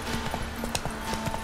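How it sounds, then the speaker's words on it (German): Horse hooves clip-clopping in a rapid, irregular panicked rhythm within The Witcher 3 game, moderately loud and close, with a faint hint of whinnying and no speech over it. "Guck mal, Pferdepanik, die armen Plötze"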